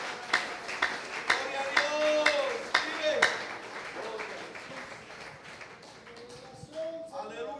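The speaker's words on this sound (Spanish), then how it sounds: "Aplauda al Señor Jesucristo en esta mañana," Scattered clapping from a church congregation, with sharp separate claps spaced through the first few seconds that fade toward the end, while people talk and voices carry over them.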